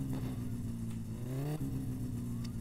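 Car engine in the driving game My Summer Car, a steady low harmonic drone that climbs in pitch as it revs up, drops sharply, then settles back into a continuous hum, loud and close with no talk over it.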